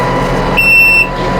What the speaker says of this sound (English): when I get up, you get a loud audible warning